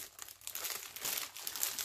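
Paper napkins from a Dollar Tree haul being pulled from their packaging and crinkled, a close, quiet run of crisp rustling and crackling with no talking.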